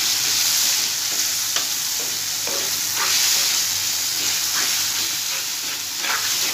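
Taro leaves (kochu shak) frying and being stirred in a pan, a steady bright sizzle with periodic scraping stirs, close and continuous.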